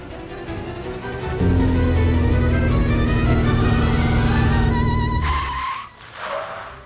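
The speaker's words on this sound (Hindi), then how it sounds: "गाड़ी क्यों रुक गई?" A car speeding along, loud steady engine roar, then tires skidding as it stops suddenly, followed by a quieter rumble fading out.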